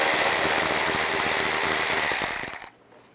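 A powered driver turns an 8mm socket to loosen a worm clamp on the air snorkel of a 2007–2018 Jeep Wrangler: a close, continuous whirring that runs for about two seconds, sputters down and stops, leaving silence.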